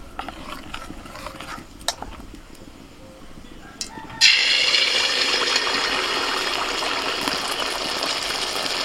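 Pithe, Bengali rice cakes, are dropped one at a time into hot oil. After a few quiet clicks and taps, a sudden loud sizzle bursts up and settles into a steady, close frying hiss.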